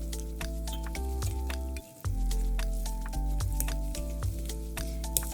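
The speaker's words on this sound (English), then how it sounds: "take your fork again, and you're going to mix this all together" A fork mixes a small batch of Southern biscuit dough in a bowl, giving soft, repeated scraping and squishing strokes under steady background music.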